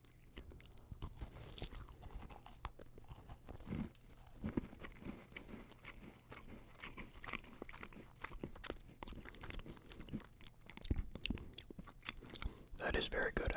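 Close, crisp crunching bites into a thin, crunchy, crumbly Crumbl cookie, followed by steady chewing, all quiet and near with no talking.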